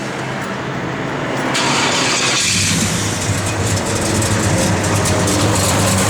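A 1970 Chevrolet Chevelle SS engine with a mild cam cranks and catches, then settles into a loud, steady rumbling idle close by.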